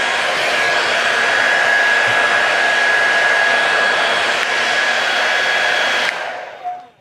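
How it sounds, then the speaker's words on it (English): A hair dryer blows on medium heat to dry and style hair into a pompadour, giving a loud, steady whirring rush with a high whine. It runs for about six seconds, then switches off and winds down. "I'm gonna dry the hair in the direction I want to achieve my hairstyle."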